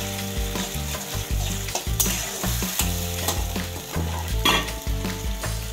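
Gravy for chicken momos frying in a pan while being stirred, a loud continuous sizzle broken by rhythmic scraping and knocking of the spoon against the pan, with a steady low hum underneath and no voices.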